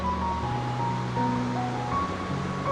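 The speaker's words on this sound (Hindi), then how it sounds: "तो ये देखिए मंदाकिनी नदी, इसका पानी भी कलर थोड़ा चेंज है" The Mandakini river flowing, its water discoloured by rain upstream, heard as a steady broadband rush without a break, fairly close and unbroken.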